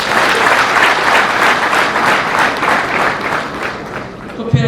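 Loud, sustained applause from a crowd of cooperative members at an International Day of Cooperatives event in Rwanda, dense clapping filling the whole stretch before tapering at the end.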